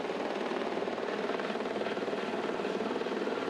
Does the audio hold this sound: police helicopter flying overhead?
yes